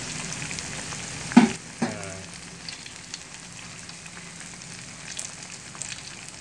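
Steady oil sizzling as bananas fry in a pan, with a couple of clattering knocks early on, close and continuous.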